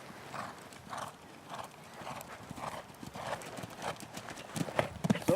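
A horse canters during a riding lesson, its hoofbeats thudding in a steady three-beat rhythm at moderate distance while an instructor talks over them.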